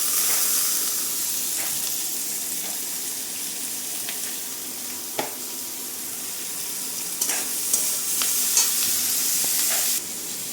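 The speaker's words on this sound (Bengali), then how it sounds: "নাড়ছি, নাড়তে নাড়তে গাজর আর বিনস দুটো দিয়ে দিলাম।" Carrots and beans are stir-fried with green chilli in hot oil in a pan for a homemade egg veg chow, giving a continuous, bright sizzle with occasional clicks and scrapes of stirring over it.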